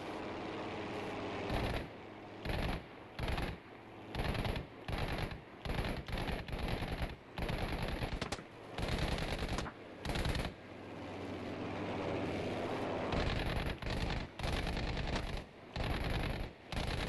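Bursts of machine gun fire in Battlefield 5 on a Pacific map, loud and close, coming in repeated stuttering volleys with brief gaps and a longer sustained stretch of continuous firing.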